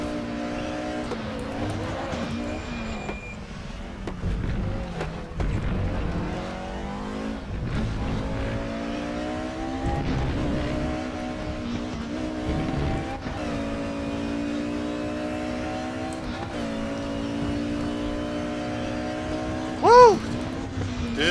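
Race car engine in the RaceRoom Racing Experience sim game, droning steadily as it climbs and drops through the gears over a full lap stretch, with brief tyre squeal near the end and no talk.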